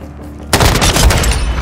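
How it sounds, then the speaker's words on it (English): A stun grenade detonates in Call of Duty: Modern Warfare 2 (2022) on the Alboran Hatchery map: after a quiet half second, a sudden loud broadband blast hits and its harsh roar carries on with crackling gunfire-like texture to the end. "Stun grenade out."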